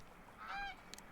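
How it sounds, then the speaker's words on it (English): A duck in the Beware of the Cartographer game lets out a single faint, nasal honking quack over quiet background ambience, followed by a couple of soft clicks. "Duck."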